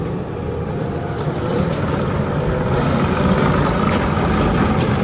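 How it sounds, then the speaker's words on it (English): A 2020 Yanmar C50R-5A tracked carrier rolling over a gravel pile, its steady diesel engine rumble and track noise continuous and fairly close throughout. "you can see all them rollers working on that pile of gravel he drove over"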